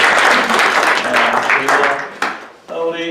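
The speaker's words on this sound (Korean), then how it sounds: "천성 목사님 할 때도 박수를 치셔야 되는 거예요." A congregation at a Sunday worship service of a Korean church in New Jersey claps for a pastor being introduced. The steady applause fades near the end as a voice speaks over it.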